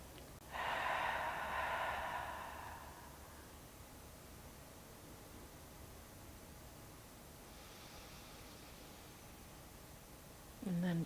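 Long, slow, focused breathing during an exercise: one loud, drawn-out breath near the start, a quiet stretch, then a softer breath and the start of another at the end.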